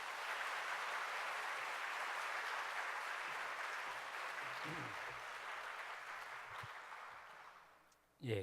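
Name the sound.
audience applause welcoming the pastor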